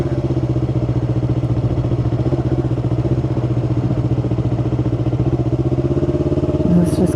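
A Yamaha R3 motorcycle engine pulls away in first gear with a learner rider aboard, producing a close, steady, throbbing mid-pitched drone with even pulses that stays loud throughout.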